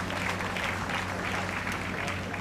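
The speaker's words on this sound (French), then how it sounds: "il mérite un applaudissement" A gathered congregation at a congress applauds the sound technician, a steady dense round of clapping filling the hall, fairly loud and continuous with a faint background hum.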